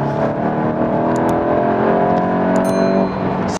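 A Volkswagen Golf 8 GTI accelerates hard on a country road, its engine note climbing steadily in pitch for about three seconds, loud and close from inside the car, with no talk over it.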